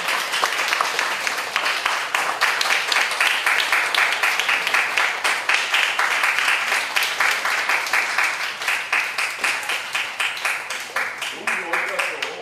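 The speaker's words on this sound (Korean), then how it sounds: "다 같이 축하의 박수 크게" An audience at a Baptist pastor's inauguration ceremony applauds in a dense, sustained round of clapping that fills the hall and fades slightly toward the end, with voices mixed in.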